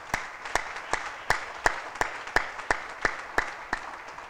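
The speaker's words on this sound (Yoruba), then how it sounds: "ẹ pàtẹ́wọ́ fún bàbá mi jàre wo bí ṣe ń pàtẹ́wọ́ fún bàbá tèmi" A church congregation clapping in a steady, even rhythm of about two to three claps per second, each clap sharp and fairly close.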